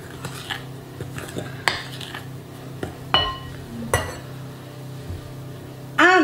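Sugar being mixed in a bowl with a wooden spoon for chocolate pecan cookies: irregular knocks and scrapes against the bowl, a few sharper clinks, close and fairly quiet, with no speech.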